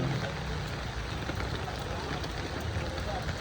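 Steady rain falls throughout in a dense, even hiss, heavy and close with no break.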